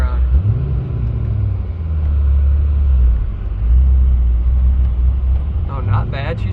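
A C6 Corvette drift car pulls away on snowy ground, its engine giving a deep, steady rumble close by that swells and eases, with a brief voice near the end.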